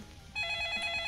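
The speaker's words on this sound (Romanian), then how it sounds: "Îmi sună telefonul." A telephone rings in the Roblox Brookhaven video game, a bright electronic trill that starts suddenly after a brief quiet moment and pulses rapidly at steady volume, close and clear.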